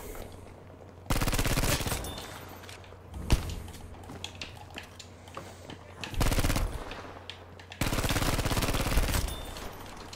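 Sub-machine gun fire in the Battlefield V video game comes in loud, rapid automatic bursts, three long volleys separated by pauses, with scattered single shots and footsteps between them.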